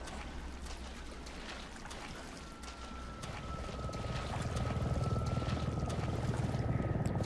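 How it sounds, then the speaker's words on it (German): A Black Hawk helicopter in the video game Resident Evil 7 gives a low, steady rotor rumble that swells slightly louder toward the end over faint background ambience. "Hubschrauber."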